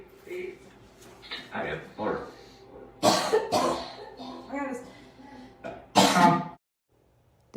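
Several loud, broadband coughing bursts, some sounding like throat clearing or a sneeze, come close up in a quiet indoor room, spread irregularly over a few seconds, with faint voice-like sounds between them and silence near the end.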